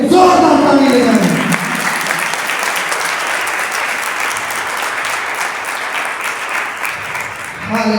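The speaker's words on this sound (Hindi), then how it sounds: "उस यीशु के लिए जोरदार ताली लगाएं" Loud congregational applause for Jesus at a Christian worship gathering, a voice trailing off at the start before steady clapping fills the rest, with a voice returning at the very end.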